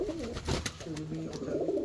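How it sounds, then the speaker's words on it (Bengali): At a pigeon farm, Giribaz pigeons coo in soft repeated rolling calls nearby, with a faint voice in the background. "ভাই আপনার এখানে তো অনেক কবুতর দেখতেছি ভাই"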